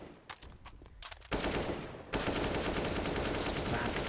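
Sustained automatic rifle fire sprayed through walls on Inferno in Counter-Strike, a few scattered shots first, then loud continuous rattling bursts that keep going.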